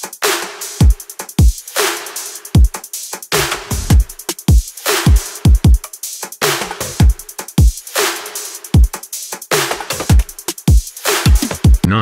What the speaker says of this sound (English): because this is the whole drum loop